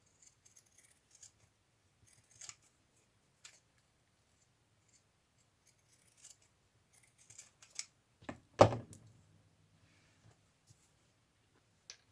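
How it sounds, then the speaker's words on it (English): Scissors cut paper for a botanical journal, giving sparse, faint snips and clicks in a quiet room, with one louder, fuller cut about two thirds of the way through. "I am going to cut a little bit smaller."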